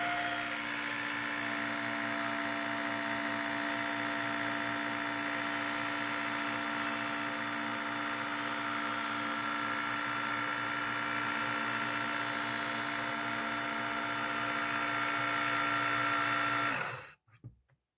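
An original WorkSharp electric knife sharpener grinds a knife blade with a steady, high motor whine and belt buzz running loud and unbroken, then shutting off abruptly near the end.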